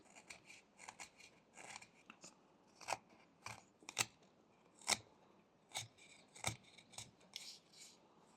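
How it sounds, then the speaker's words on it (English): A whittling knife cutting into wood around the eyes of a small carved discus fish, sharp close scraping and snicking cuts in an irregular series of short strokes, quiet and with no talk. "So we can make cuts all around the eyes and then cut some wood away from around them."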